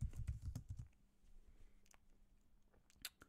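Keystrokes on a computer keyboard, fast typing at first as a search term is entered into a code editor's extension search, then sparse, faint clicks over quiet room noise.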